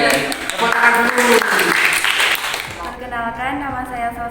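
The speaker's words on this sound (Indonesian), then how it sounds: "tepuk tangan dulu" A group in a classroom counselling session claps together in a dense burst for about three seconds before a person begins speaking over the fading applause.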